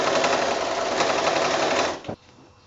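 A sewing machine with a walking foot stitches binding onto the back of a quilt, running in a fast steady whir for about two seconds before stopping abruptly with a small clunk.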